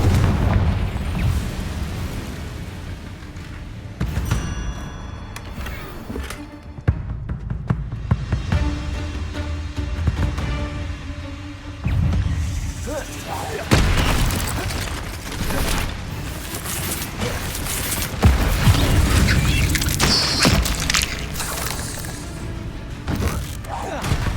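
Spell explosions in the Hogwarts Legacy video game, several loud booming blasts and bursts scattered among rumbling effects and game sound, with voices speaking at times.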